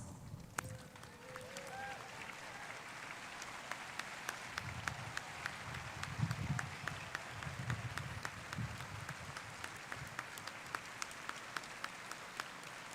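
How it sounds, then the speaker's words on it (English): An audience at a high school commencement applauds as National Honor Society members and their parents stand, a faint, scattered patter of clapping with some crowd murmur and shuffling throughout. "please rise and be recognized by our applause"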